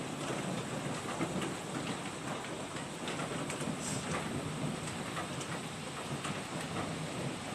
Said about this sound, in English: It's just like pouring with hailstorm.